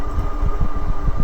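A HeyBike Mars 3.0 folding fat-tire e-bike rides in Eco assist mode, giving a steady low motor and tire hum with faint whine, close and continuous, with no talk.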